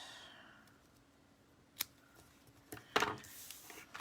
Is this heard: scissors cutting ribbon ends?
yes